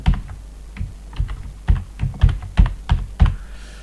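Computer keyboard typing at close range, a run of about a dozen distinct keystrokes in an uneven rhythm, heard alone without speech.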